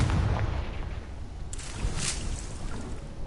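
Confringo blasting spell exploding in Hogwarts Legacy, a loud low rumble with a sharper crackling burst in the middle, sustained across the moment with no talk.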